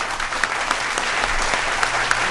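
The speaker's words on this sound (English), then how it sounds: "Let's give a nice round of applause for Chip Copa." An audience at a late-night stage show claps and cheers for a performer coming on, a short burst of dense, lively applause with occasional sharper claps and faint voices.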